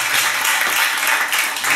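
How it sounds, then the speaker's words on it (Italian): An audience applauds at a cultural salon interview event, dense steady clapping filling the room, loud and close, with no voices over it. "un applauso."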